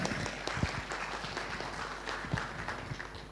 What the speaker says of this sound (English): Please give applause for Pak Christopher again.